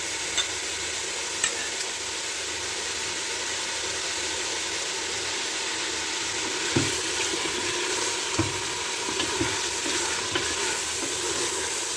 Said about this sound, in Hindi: नमक और ज़ीरा डाल के इसको मैं भून दूँगी।